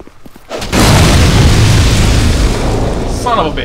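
A loud, close explosion in Dark Souls 2 as an explodable item is struck with a fire sword, a sudden booming blast that rolls on for a few seconds before a voice breaks in at the end.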